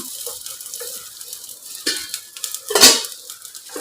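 Chow chow and tamarind sautéing in a pan on low flame, with a soft sizzle under clattering stirring strokes and a louder scrape near the end, no voices.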